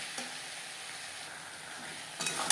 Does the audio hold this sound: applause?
no